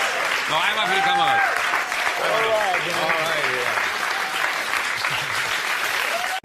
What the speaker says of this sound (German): Und Applaus für der Gabriel!